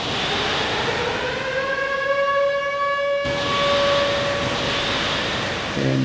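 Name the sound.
civil defense air raid sirens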